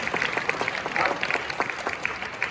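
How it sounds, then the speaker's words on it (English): A convention crowd at an opening keynote gives a round of applause, a continuous stretch of dense clapping throughout with scattered sharper claps rising above the wash. "let's have a round of applause for building more ladders."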